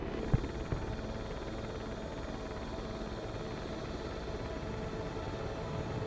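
Helicopter rotor in the Broken Arrow military strategy game, a steady low droning wash with a faint rhythmic chop and a brief thump early on, moderately distant with no talk.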